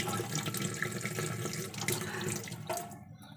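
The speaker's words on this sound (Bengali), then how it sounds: "দেখলে মুখটা ধুলাম একটুখানি পরিষ্কার লাগলো" Water splashing steadily from a household tap while someone washes their face, close and continuous before cutting off near the end, with no talking.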